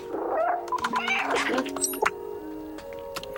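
A cat meows several times in the video game Stray, with short pitched calls and chirps in quick succession over a quiet background.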